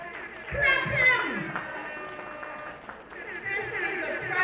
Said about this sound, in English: Round of applause for me. Just clap him.